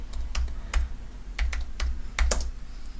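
Typing on a computer keyboard while writing in a document editor: a quick, uneven series of close, crisp key clicks with short pauses between bursts, and no voices.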